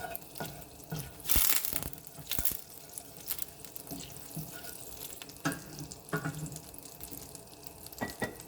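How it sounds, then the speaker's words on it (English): Unsalted butter melts in a frying pan, giving a soft, steady sizzle and crackle with a few louder spits and pops scattered through it. "I'm going to let some of the water that's in the butter boil off"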